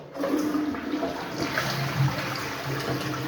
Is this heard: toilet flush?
yes